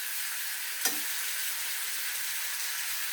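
Butter melts and sizzles in a pan beside a ribeye steak. A steady, even frying hiss holds for the whole stretch, broken by one brief tap near the start.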